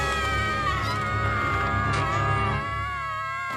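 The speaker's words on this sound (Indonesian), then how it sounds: "Kalian bisa berhenti berteriak sekarang." Several high cartoon voices from My Little Pony: Friendship Is Magic, dubbed in Indonesian, scream together in a sustained, shrill chorus that holds steady before easing off slightly at the end.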